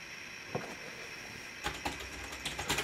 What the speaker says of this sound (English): you can use a keyboard to type